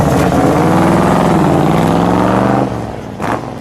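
A 1962 Chevrolet Bel Air 409 drag car with a W-series 409 cubic inch V8: a loud, close engine roars and revs hard, steady for a few seconds, then eases off with a brief final blip.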